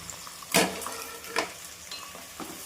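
Green chilies, coriander and mint frying in a pan for chicken biryani: a soft, close sizzle interrupted by two distinct spatula scrapes and a few lighter stirring touches.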